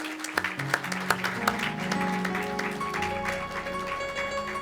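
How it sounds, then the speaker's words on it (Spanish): A church congregation applauds a woman standing during a service, with a few sharp claps at first swelling into steady clapping beneath sustained, tonal music. "un fuerte aplauso a nuestra hermana Judith"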